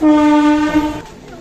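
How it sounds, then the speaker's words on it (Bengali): A train standing at a railway platform sounds a loud, steady horn that holds for about a second and then fades into rumbling station noise. "প্ল্যাটফর্মে অনেকটাই ট্রেন এসে দাঁড়িয়ে আছে, কারণ রাস্তায় লেট হয়েছে।"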